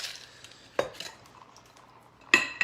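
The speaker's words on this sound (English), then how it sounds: "you're just gonna shake it, just the alcohol and the peppers" A cocktail shaker shaken with alcohol and jalapeno peppers, heard as a few sharp metallic clinks and rattles in bursts between quiet stretches, fairly close with no talking.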